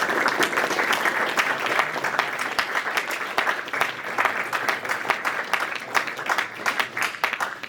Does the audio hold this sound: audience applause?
yes